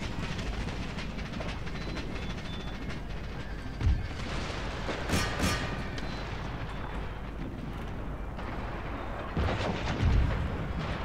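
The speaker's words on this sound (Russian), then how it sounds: "Так, пушкам разрешить огонь." Cannon and artillery fire in Empire Total War during a battle for Berlin, a steady rumbling roar of distant guns with a few sharper thumps and crackling volleys standing out.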